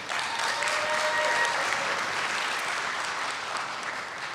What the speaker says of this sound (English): give her more applause